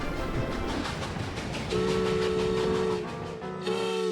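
A small toy train in a house decorated for Christmas rumbles and clatters steadily, then sounds two sustained whistle-like tones, with a brief break before the whistle resumes near the end.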